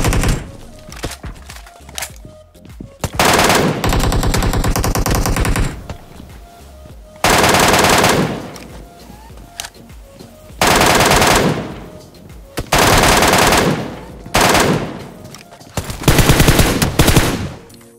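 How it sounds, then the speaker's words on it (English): Fully automatic weapon fire in PUBG Mobile, with loud rapid bursts of varying length separated by short pauses. "this weapon has the highest damage in any fully automatic weapon, so it will have higher recoil"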